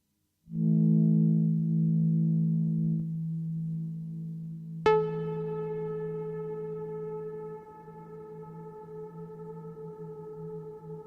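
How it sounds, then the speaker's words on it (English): A sustained Eurorack modular synth drone with harmonics cuts suddenly at a sharp transient, then a bright frozen reverb tone holds steady and rings on alone. "reverb just got frozen"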